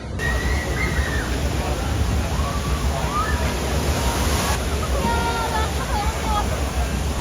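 Water sloshes and rushes steadily around an indoor water taxi ride at a water park in Vienna, a constant splashing wash with voices and faint babble mixed in.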